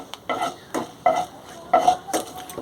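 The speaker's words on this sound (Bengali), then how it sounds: "এবার ওই তেলের মধ্যে দিয়ে দেবো দুটো শুকনো লঙ্কা, দিয়ে দেবো সর্ষে। ফোড়নটা ভালো করে ভেজে নেব আমি।" Dried red chillies and mustard seeds frying in hot oil for a tempering for a Bengali rohu fish curry, giving bursts of sizzling and crackling with stirring and utensil clatter, close and moderately loud, with no talking.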